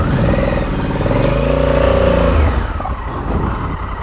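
A Honda Africa Twin 1100 twin-cylinder motorcycle pulls away with a loud, steady engine drone that rises in pitch as it accelerates, then eases off toward the end.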